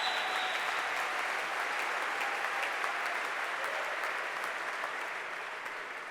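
A large hall of fame gala audience applauds for Illinois athletics honorees, a broad, sustained wash of clapping at an even level that thins slightly toward the close, with no voices over it.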